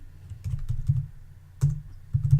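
Keys tapped on a computer keyboard in short bursts of clicks separated by brief pauses, close and fairly clear with no voices.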